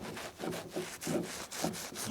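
A polishing towel rubs across a Harley motorcycle in quick back-and-forth strokes, producing soft, rhythmic swishing bursts close by, about four passes in two seconds.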